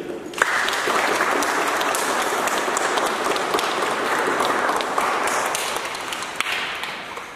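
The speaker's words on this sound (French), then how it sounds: "Est-ce qu'on peut les applaudir ?" Wedding guests applauding the couple in a church ceremony, sustained crowd clapping that starts abruptly, holds steady with a few sharp taps and knocks, then tapers slightly at the end.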